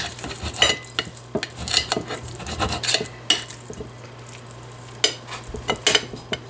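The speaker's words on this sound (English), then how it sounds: "Let's go ahead and cut it in half and see how I did." A knife cuts through a broiled rib-eye steak on a plate, producing repeated scraping, sawing strokes and occasional metallic clinks in an uneven rhythm, close over a faint steady hum, with no speech.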